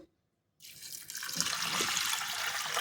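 Water is poured into a pressure cooker holding dal, starting after a brief silence with a steady, close splashing gush that continues to the end.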